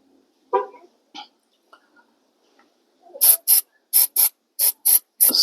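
Silicone spray hisses onto front brake parts of a Hyundai Accent in a series of short, close bursts that come in quick pairs after a few faint knocks and clicks.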